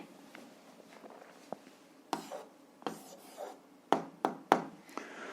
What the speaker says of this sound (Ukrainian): а зараз записуємо відповідь. Пишемо відповідь.